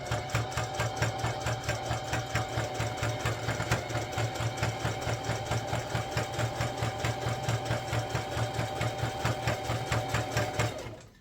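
A sewing machine runs steadily for about eleven seconds, stitching a shoulder patch onto an Adidas hockey jersey, its rapid mechanical chatter close and continuous until it stops at the end.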